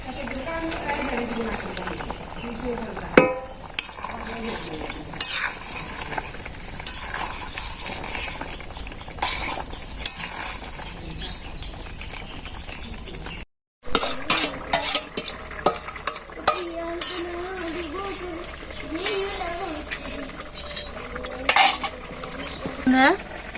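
Fish frying in a pan in a village kitchen and being stirred, with steady sizzling under repeated scraping and clinking of a utensil against the pan, close by, and a voice speaking at times.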